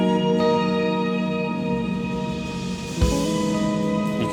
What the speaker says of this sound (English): Here comes the shimmer.